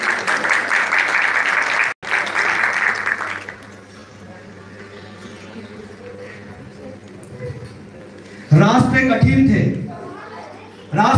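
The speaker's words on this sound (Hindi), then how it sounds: "जोरदार तालियां हो जाए।" A festival audience at the Marathwada Film Festival bursts into loud applause that fades after a few seconds, leaving a quieter room before a voice and some chuckling rise near the end.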